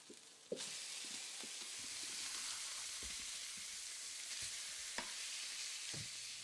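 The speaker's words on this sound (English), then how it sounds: "After browning on one side, turn the fish to brown the other side." Fish browning in a covered frying pan gives a steady broadband sizzle throughout, with occasional soft clicks and light utensil taps scattered over the constant hiss.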